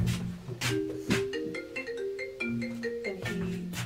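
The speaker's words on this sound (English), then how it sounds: "It's Sean FaceTiming you" A FaceTime call ringtone plays on a phone as a steady melodic chime pattern, moderately loud and continuous throughout, with a faint voice briefly underneath.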